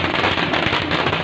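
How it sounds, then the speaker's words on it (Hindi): Fireworks crackle and pop without a break during a street welcome for a political procession, a loud, dense burst of rapid bangs. "रही सही कसर शानदार आतिशबाजी करके पूरी कर दी गई।"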